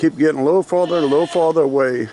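A mother goat bleats repeatedly in long, wavering calls on a homestead field, loud and fairly close, while a person talks over and between the cries.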